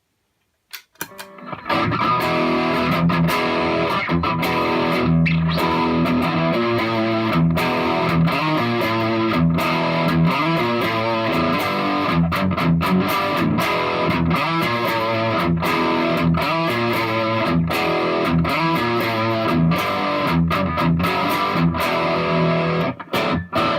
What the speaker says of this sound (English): And then through the actual amp distortion